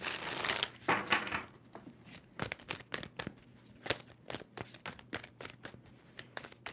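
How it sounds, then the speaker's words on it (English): A deck of tarot cards being shuffled by hand, with a dense riffling burst at the start and then a run of crisp, close card flicks and taps that follow each other irregularly. "Two more shuffles? One, two."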